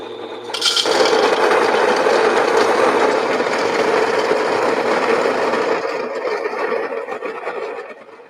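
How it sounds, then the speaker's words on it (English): A coffee grinder grinds Gesha coffee beans at a slightly coarse setting, a loud, close, continuous gritty whirring and rattling that holds steady for several seconds before tapering off. "We're going to grind it up."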